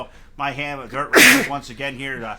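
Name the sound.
sneeze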